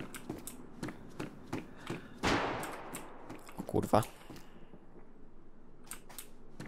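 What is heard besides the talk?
nearby gunshots in the video game DayZ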